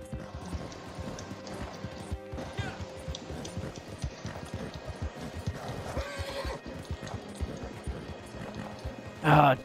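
A horse gallops with steady clip-clop hoofbeats through the open-world game Red Dead, then gives a loud, close whinny right at the end.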